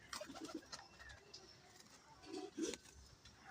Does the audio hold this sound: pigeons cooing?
yes